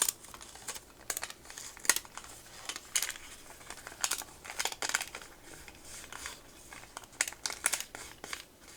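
Wax-paper packs of old Cyndi Lauper trading cards are opened up close, with crisp crinkles, tears and papery rustles arriving in quick irregular bursts, fairly soft and with no talking.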